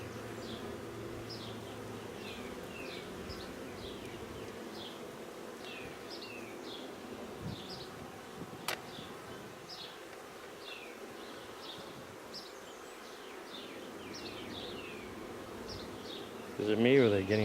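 Honeybees buzzing steadily around an open hive during inspection, a continuous droning hum with individual bees flying close past, ending with a brief louder clatter.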